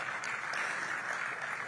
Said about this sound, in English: Let's give her a resounding applause.